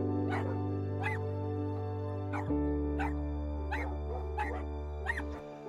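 A pack of wild dogs gives a run of high, bird-like yips and whimpers while hunting a leopard, about a dozen short calls in an uneven rhythm over a low steady hum.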